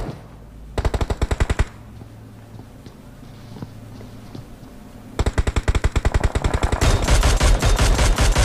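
Rapid automatic gunfire from the video game PUBG Mobile comes in two loud bursts of evenly spaced shots, the second long and sustained, with quieter ambience in between.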